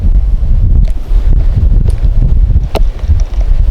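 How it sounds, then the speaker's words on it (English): Strong spring wind batters the microphone at a tarp campsite, a loud, steady rumbling roar with quick gust surges and a few faint rustles or flaps over the top. "because it's very windy."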